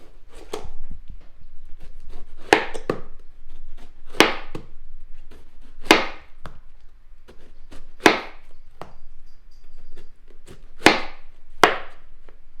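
A knife slices marinated meat on a board for tacos al pastor, about eight sharp, distinct cuts spaced roughly a second or two apart, close and clear against a quiet background.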